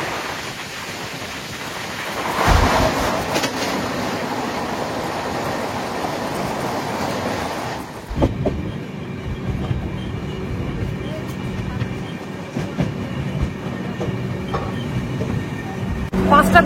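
Kulik Express passenger train running on rails, a loud continuous rumble and rattle heard close up with wind buffeting, the tone shifting partway through as the sound changes.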